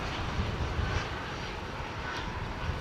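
A China Airlines Cargo plane's engines roar at Dallas/Fort Worth Airport, a steady, broad, loud rumble that holds evenly throughout with no talk over it.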